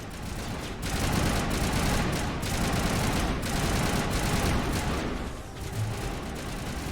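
Rapid video game gunfire in Mass Effect, a dense string of repeated shots with occasional heavier booms, continuous and loud for nearly seven seconds.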